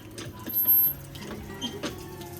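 Water gushing from a Jetmatic hand pump at a roadside well, a steady splashing flow that swells briefly near the start before settling into an even, close-up pour.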